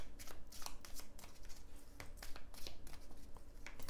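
Tarot cards rustle and slide under quick hands, with a run of soft, close card flicks and taps as they are gathered and laid face down, no talking.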